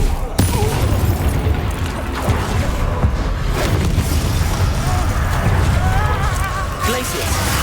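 Confringo blasting spells going off in Hogwarts Legacy during a busy spell-casting fight, with dense, continuous crashing bursts and rumbling booms filling the mix as a voice calls out over the din.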